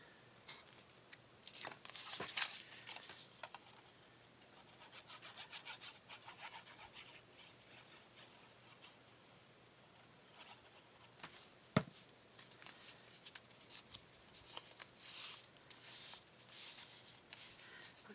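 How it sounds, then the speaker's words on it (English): Scissors or a blade cutting and trimming craft material for an ocean-themed journal page, with soft, close rasping strokes in irregular bursts and one sharp snip near the middle, quiet and without talk. "Cut this here, and I'm even going to trim it up on the sides a little bit"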